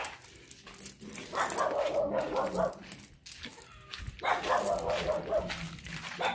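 Several dogs bark in overlapping bursts, distant and somewhat muffled, building into two noisy waves of barking against an outdoor background.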